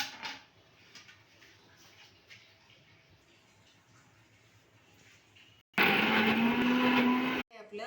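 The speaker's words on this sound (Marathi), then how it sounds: "हे सगळं टाकून वाटून घ्यायचं चांगलं बारीक" A mixer grinder whirs loudly as it grinds curry ingredients for a surmai fish thali, a dense steady roar that starts abruptly after a quieter stretch with voices and cuts off sharply.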